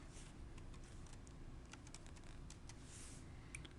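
Rapid clicking keystrokes on a computer keyboard, a quiet, steady run of taps close by with no talk.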